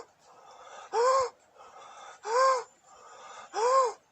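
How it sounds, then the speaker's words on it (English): A person doing a deep, rapid breathing exercise takes three loud, forceful gasping inhales, evenly spaced, with softer breathy exhales between them, close to the microphone. "Chuck in as much breath as you can."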